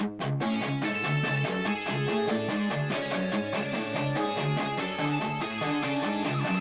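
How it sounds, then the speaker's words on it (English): Palm-muted, chugging metal rhythm guitar with a lead guitar layered on top plays a dense, continuous riff. Tight rhythmic chugs sit beneath sustained lead notes, loud and close throughout with no talking. "So I followed up that palm muted chugging guitar with this lead guitar"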